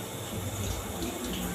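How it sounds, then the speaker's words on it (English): Steady water running from a tap during handwashing, a continuous close splashing flow into a sink with no talk over it. "the water would flow from the cleaner area down to the most contaminated area."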